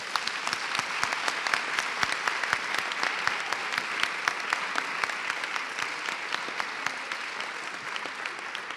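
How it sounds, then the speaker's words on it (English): An audience applauds students at a pre-kindergarten school event, continuous clapping of a modest crowd, steady and fairly close, lasting throughout without talk. "Can we give all of our students a round of applause?"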